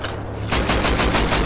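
Sustained automatic gunfire from the survival video game Rust, a rapid, steady burst of game shots that starts faintly and turns loud and continuous halfway through, with no talk.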